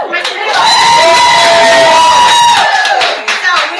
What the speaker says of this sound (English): you guys hear all that clapping because I have a live studio audience